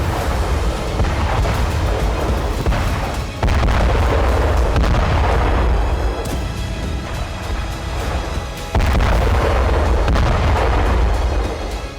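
Bomb explosions from the Russia-Ukraine war roll out as a loud, continuous rumbling roar, with fresh heavy blasts kicking in about a third of the way through and again near the end.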